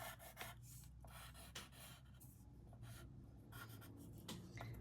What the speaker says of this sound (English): I'm just going to take my pencil